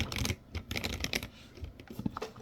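Rapid typing on a computer keyboard, close and fairly soft, with a quick irregular clatter of keystrokes and no voices.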